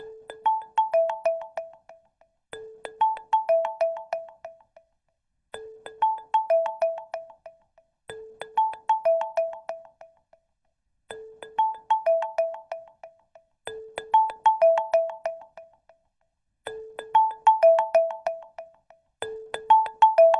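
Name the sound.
phone ringtone ringing in VR training video game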